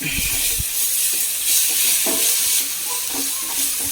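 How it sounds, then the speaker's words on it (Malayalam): Ripe banana mixture cooking with powdered sugar in a pan for arrowroot payasam, a close hissing sizzle mixed with soft stirring scrapes and occasional low knocks. "പഞ്ചസാര ചേർത്ത് പൊടിച്ചതാണ് അതും കൂടി ചേർത്ത് ഇതൊന്ന് വഴറ്റി കൊടുക്കാം നന്നായിട്ട്"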